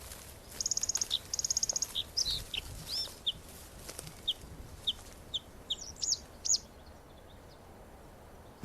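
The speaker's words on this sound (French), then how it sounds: "Les gorges bleues à miroir donnent de la voix pour marquer leur territoire." Bluethroats sing in a delta wetland to mark territory, with quick trilled bursts followed by scattered sharp chirps and short calls, fairly close over a quiet outdoor background.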